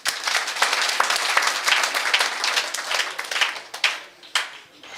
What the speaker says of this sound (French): Ça mérite qu'on vous applaudisse.